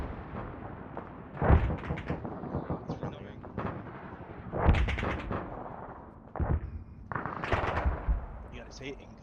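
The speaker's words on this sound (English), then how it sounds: "I'm hearing explosions and I'm hearing where." Explosions and gunfire in a military video game, heard as repeated heavy booms and bursts of shots at irregular intervals, loud and close, with a busy background throughout.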